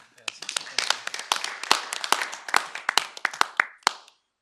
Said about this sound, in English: I would like to give them a round of applause for their willingness to serve in that capacity.